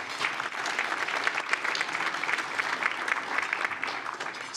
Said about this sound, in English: So let's round of applause for Catherine.